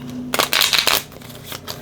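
A deck of cards is shuffled by hand in one quick riffle, a short crisp flutter of flicking cards up close, with no voices.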